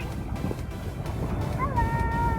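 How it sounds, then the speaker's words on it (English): Sailboat heeling on a reservoir in wind, with a steady low rush of wind and water against the hull, near and continuous, and a brief whistle-like tone near the end. "Yeah, we're still sailing along pretty good."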